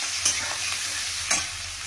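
Onions fry in a generous pour of oil, a close, even sizzle punctuated by two quick spatula scrapes as they are stirred.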